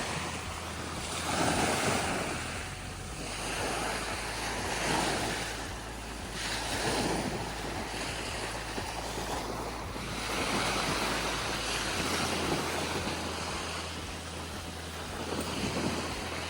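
Sea waves roll onto a beach at Golfo Aranci, Sardinia, Italy, in slow repeated surges, with steady wind noise over the microphone and no voices.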